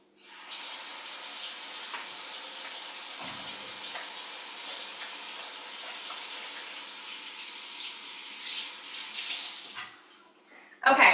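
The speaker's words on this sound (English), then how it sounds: "I do need to wash my hands" A kitchen faucet runs steadily while hands are washed, a continuous close hiss of water lasting about nine seconds with faint splashes, then the flow shuts off and a brief clatter follows.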